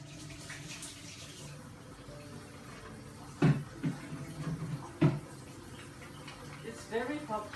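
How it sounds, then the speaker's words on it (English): Running tap water splashes as hands are washed, a soft continuous stream broken by a few louder splashes and bursts of rinsing near the sink, with some faint background noise. "I'm just going to wash my hands again."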